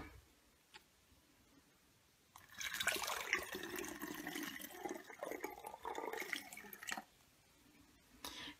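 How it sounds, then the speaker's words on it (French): A glass of water poured into a second container, a soft splashing gush that runs for about four seconds before stopping, with quiet room sound around it and a faint drip near the end. "Et ensuite tu y ajoutes un verre d'eau"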